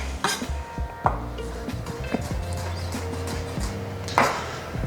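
Kitchen clatter with a knife chopping garlic against a cutting board, a few sharper chops standing out over low background hum.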